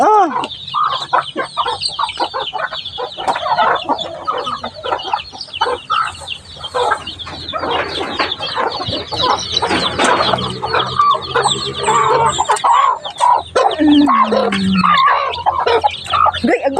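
A flock of chickens clucks and squawks close by in a steady, busy chorus, with occasional louder calls rising above the clatter.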